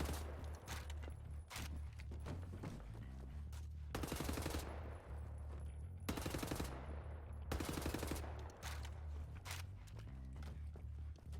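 Gunfire in the shooter Wolfenstein: The New Order: rapid automatic bursts crackle through most of the stretch, with dense, louder volleys near the middle and toward the end over a steady low game rumble.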